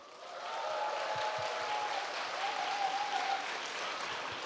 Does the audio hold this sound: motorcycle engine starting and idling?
no